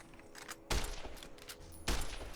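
Two sharp gunshots from Fallout: New Vegas fire about a second apart, each a loud close crack with a short rattling tail over a quiet background.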